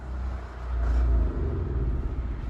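A 2007 Roadtrek Popular 210 camper van engine cranks and turns over, a low rumbling that swells and then settles into an uneven running drone.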